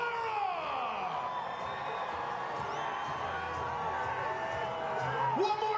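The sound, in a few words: crowd cheering for the New England Patriots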